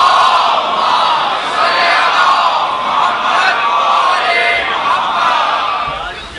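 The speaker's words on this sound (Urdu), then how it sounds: "ایک مرتبہ اور بلند اور صلوات." Large congregation at a religious gathering loudly chanting salawat in unison, a sustained roaring crowd voice that swells and fades over several seconds.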